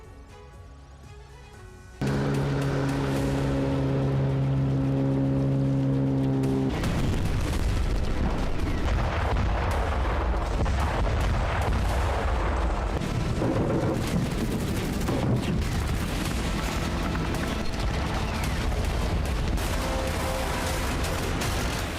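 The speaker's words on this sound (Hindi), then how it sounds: "यूक्रेन की राजधानी में कई धमाके हुए" Dense, continuous barrage of heavy blasts and booming artillery fire in Kyiv, Ukraine, loud and sustained, following a brief tonal hum at the start.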